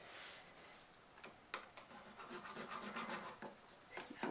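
A marker is drawn along a ruler to mark the bottom corners of a fabric piece for a zippered handbag, producing faint, close rubbing strokes in short bursts.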